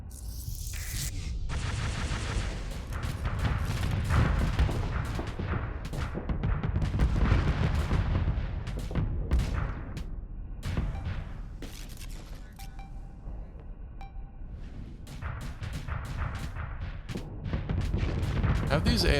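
Missile fire and explosions in the space combat game Starsector rumble and crack in dense, continuous bursts of booms and rattling impacts for the whole stretch, loud and heavy, with a voice occasionally talking over the battle.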